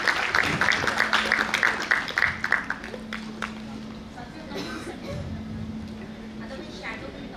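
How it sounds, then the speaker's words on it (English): Scattered clapping from guests at a school alumni night, strongest at the start and fading out under murmuring voices and a background hum. "Can we have a big round of applause for her?"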